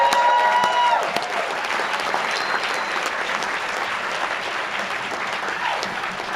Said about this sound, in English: Let's give those guys a big round of applause.